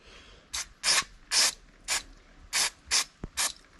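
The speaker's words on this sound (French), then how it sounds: "il suffit juste de pchiter dessus" Brake cleaner sprayed in about eight short, loud hissing bursts onto a Gurtner carburetor from a Peugeot moped, with brief pauses between each spray and a faint click near the end, no talking.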